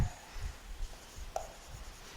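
Marker or chalk strokes on a board during a biology lesson, short faint scratchy strokes coming in small irregular bursts, close and quiet with no talk over them.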